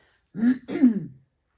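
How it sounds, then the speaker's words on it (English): A person clears their throat twice in quick succession, close and fairly loud, followed by silence. "I'm just going to clear my throat"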